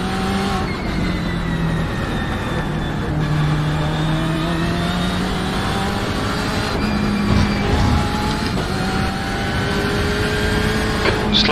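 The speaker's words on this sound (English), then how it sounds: "There's a car approaching." BMW M8 GTE race car in the iRacing sim at Sebring, engine droning loudly and steadily with rising and falling gear-change whines as another car closes in.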